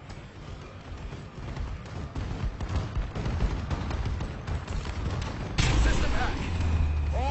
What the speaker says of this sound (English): Enemy bombing run incoming.